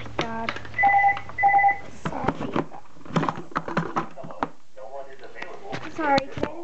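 Telephone dialing tones sound as a phone is handled indoors: a few paired beeps early on, followed by clicks, rustling and a voice speaking.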